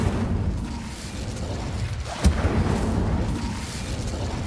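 The Incendio fire spell from Hogwarts Legacy goes off in a short whooshing burst with a low boom, set against a dense, rumbling game soundscape that continues before and after it.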